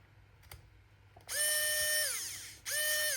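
A CreationSpace CS0802A electric precision screwdriver whirs up in two close bursts, a loud high motor whine with a ratcheting edge that spins down briefly between runs after a couple of faint clicks.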